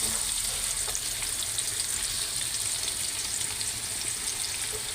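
Onions frying in oil in a pan for a bhindi pyaz sabzi give a steady, close hiss and sizzle with small crackles throughout, and no one speaks.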